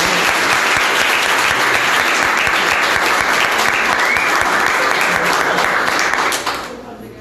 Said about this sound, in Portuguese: Uma salva de palmas para Cássio Aragão